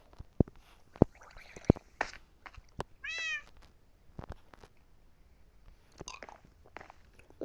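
On a farm, cats that have just been fed let out a single clear meow midway, surrounded by scattered sharp clicks and crunchy eating sounds, with no talking.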